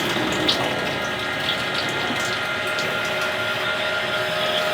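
Water discharges in a steady, continuous gush from a Cobra geyser pressure control valve releasing expansion, close and even, with a faint rushing, pump-like texture.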